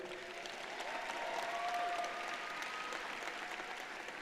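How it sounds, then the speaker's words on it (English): Graduation audience applauding school staff, a steady, moderately distant wash of many hands clapping that swells slightly midway, with faint crowd murmur underneath. "So hand clap to you all as well."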